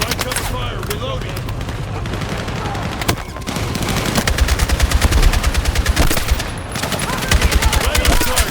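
Battlefield 6 campaign combat in a city: dense rapid gunfire, with long bursts of automatic fire crackling close and loud, in a heavy sustained stretch in the second half, while soldiers shout over it.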